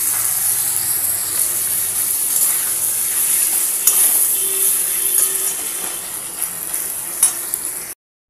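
Chicken sautés in a pan, a continuous bright hiss and sizzle at moderate loudness with faint scraping, cutting off abruptly at the end.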